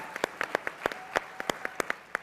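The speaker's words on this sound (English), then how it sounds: "You can clap for that" Scattered audience clapping at a political talk, a few distinct claps rising into a short, thin burst of applause from a small group, fairly distant and uneven.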